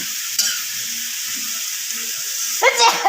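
Steady loud sizzling and frying as soy sauce hits pancit bihon rice noodles in a hot pan, with stirring and clatter, and a voice briefly speaking near the end.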